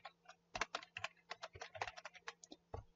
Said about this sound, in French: je vais taper mon texte